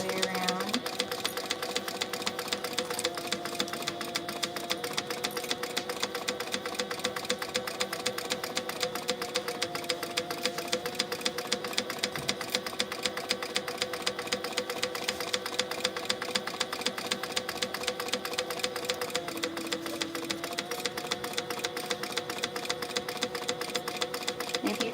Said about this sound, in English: So I'm just gonna stay stitch this all the way around.